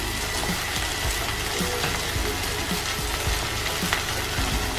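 Ground spices (chili, coriander and turmeric) sizzle steadily in oil in a pan with a splash of water while cooking rui fish curry, a loud, even frying hiss with occasional stirring scrapes.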